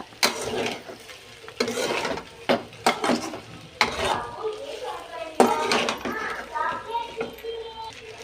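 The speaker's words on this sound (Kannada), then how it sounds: "ಚೆನ್ನಾಗಿ ಮಿಕ್ಸ್ ಮಾಡಬೇಕು ಇದನ್ನು ಮಸಾಲೆ ಎಲ್ಲ ಕಡೆ ಆಗೋ ಥರ" Pasta with masala stirred in a pan, the spoon scraping and clinking against the metal in uneven bursts, close and fairly loud, with a voice and talk in the background.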